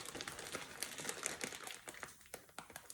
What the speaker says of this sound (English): I'm going to get a pair of scissors as well, and I'm going to trim a very tiny bit of the plastic bag off